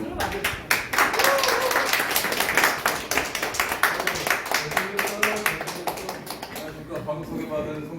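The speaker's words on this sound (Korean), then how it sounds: "큰 박수로 맞이해주세요." An audience at a lecture gives a loud round of dense, rapid applause to welcome a speaker, the clapping filling the room and tapering near the end, with some talk mixed in.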